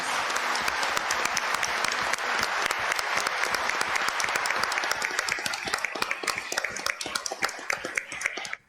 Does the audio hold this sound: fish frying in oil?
no